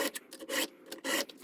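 A round hand file rasps across a chainsaw chain with a roller guide, giving several short, close scraping strokes in an uneven rhythm, alone and fairly quiet.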